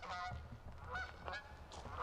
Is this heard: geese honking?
yes